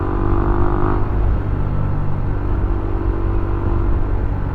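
A motorcycle rides along a road with a steady, loud engine rumble and wind noise, continuous throughout and without talk.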